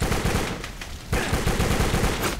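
Dense, continuous gunfire in Soldier of Fortune Payback, rapid automatic shots rattling loudly with a brief dip midway before the barrage resumes.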